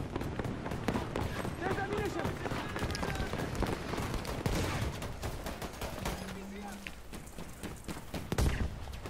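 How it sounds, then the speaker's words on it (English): Anti-aircraft gun fire in the video game Battlefield V: rapid gunfire bursts run through a dense, loud battle mix, with a heavier blast near the end. "somebody is on the AA gun"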